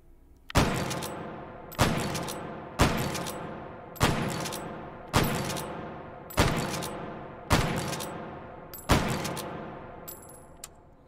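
Eight heavy booming shots from a Rio Big Bore lever-action rifle in the VR game H3VR, spaced about a second apart, each with a long echoing decay, loud and close with no talking.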